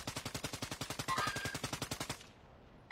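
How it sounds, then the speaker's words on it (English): Rapid automatic gunfire in a first-person shooter video game, about twenty evenly spaced shots in a steady burst, fairly faint, then tapering off. "Lots of gunfire over there."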